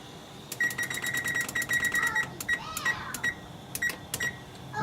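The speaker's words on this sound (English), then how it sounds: "I'm going to set a timer for, how long was it? 13 minutes?" A kitchen timer beeps in quick bursts of short, bright electronic tones as it is set while beef medallions, mushroom sauce and mashed potatoes are cooked, close and clear over a quiet room.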